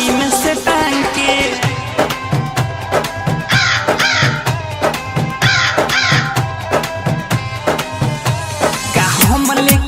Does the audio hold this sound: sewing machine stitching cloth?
no